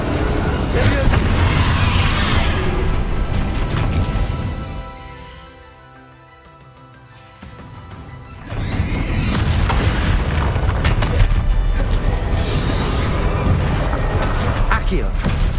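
Repeated Bombarda spell explosions in Hogwarts Legacy, loud booming blasts in dense succession, dropping to a brief lull midway before the barrage resumes with heavy low rumble.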